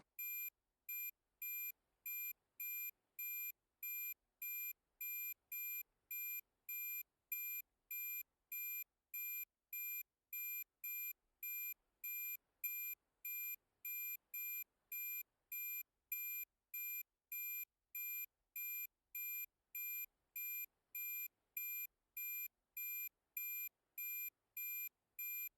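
Radar warning receiver in an F-4 cockpit in the DCS flight simulator, a quiet, high electronic beep repeating at a fast, perfectly even rhythm throughout, alone.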